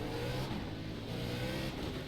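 A NASCAR race car in iRacing revs at the Rockingham start, a loud, sustained engine drone holding steady throughout.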